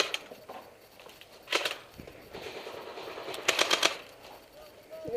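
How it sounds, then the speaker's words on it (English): Airsoft guns fire in short bursts of rapid clacking shots during a team skirmish, quick clusters of snaps spaced a second or two apart at moderate distance, with faint voices between volleys. "They're shooting."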